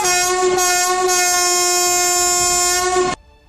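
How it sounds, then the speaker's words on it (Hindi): A loud, sustained train horn sounded by the driver after someone pulls the emergency chain, blaring for about three seconds before cutting off to quiet rail noise. "अगर ट्रेन की चेन खींचोगे तो ट्रेन रुक जाएगा और फिर ड्राइवर हॉर्न मारेगा"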